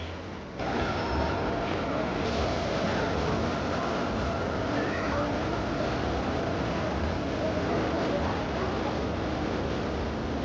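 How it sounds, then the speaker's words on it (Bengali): A train pulls away on the journey from Kolkata toward NGP, a steady broadband rumble of rolling wagons that holds level and loud throughout, with faint squeals riding above the continuous roar. "ট্রেনটা চলে যাচ্ছে"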